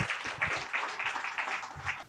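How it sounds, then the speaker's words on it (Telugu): An audience at a meditation gathering claps for a speaker walking up to the stage, a short burst of steady, moderately loud applause from many hands, with no talking. "గట్టిగా చప్పట్లు మాస్టర్స్"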